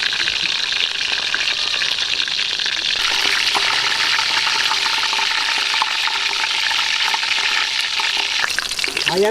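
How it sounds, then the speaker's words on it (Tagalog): Sisig meat, softened beforehand, frying in a pan with a steady, loud sizzle and crackle that holds throughout, intensifying partway with occasional stirring scrapes and no voices. "mag-start na tayo mag-prito sa ating limpo"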